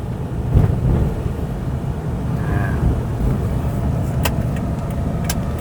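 A 2013 Isuzu D-Max 3.0 diesel pickup with automatic transmission drives along a road, giving a steady low engine and tire rumble heard from inside the cab, with a few faint clicks and rattles.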